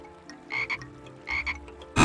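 Frogs croaking in the video game River Tails: Stronger Together, two pairs of short raspy croaks followed by a sharp loud burst at the end, with no voices.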